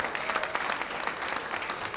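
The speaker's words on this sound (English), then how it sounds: "Let's clap for her, please." Audience applause at an international conference on AI and robotics: a steady, moderately loud patter of many hands clapping, with no voices over it.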